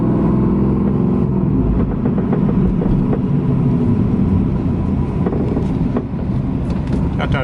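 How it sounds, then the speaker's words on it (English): A Big Cam WS6 car slowing from around 35 mph, heavy steady engine and road rumble with wind buffeting close to the microphone, the drone easing slightly toward the end. "so we'll do a few stops, about 35 miles an hour, not coming to a complete stop"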